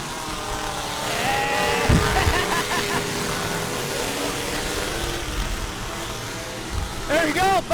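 Race car engine at the Halloween Havoc event in Ogden, Utah, a steady loud roar with crowd noise throughout, a couple of heavy low bursts, and people talking and cheering over it.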